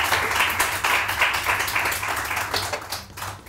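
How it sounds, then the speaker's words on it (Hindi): A studio audience on a morning television show breaks into dense, steady applause that fills the short stretch at moderate loudness before easing slightly at the end. "आप लोग तालियां बजाएं इस बात पे।"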